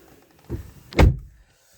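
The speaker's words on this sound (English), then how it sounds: "so I've closed the door" A car door on a 2014 Mercedes-Benz C220 CDI AMG Sport saloon is shut from inside, a small rustle followed by one solid, deep thunk close by, then quiet.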